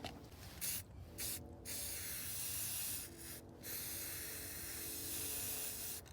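Spray paint can hissing red paint onto a fingerboard in the cold, steady close bursts broken by a few short pauses between sprays.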